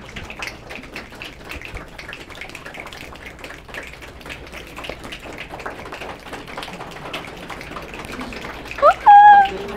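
Many audience members clap and tap together to imitate rain, a dense, continuous crackle of soft claps spread across the room, with a brief voice cutting in near the end.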